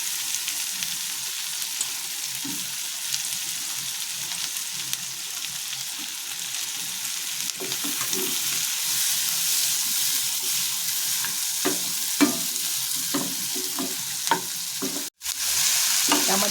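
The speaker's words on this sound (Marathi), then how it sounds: "त्या आम्ही इथे बटर घातले, त्यामध्ये थोड्या फ्राय करून घ्यायच्या आहेत." Chopped vegetables frying in butter on a griddle for a homemade veg cheese pizza, a steady close sizzle with occasional stirring scrapes throughout, no voices.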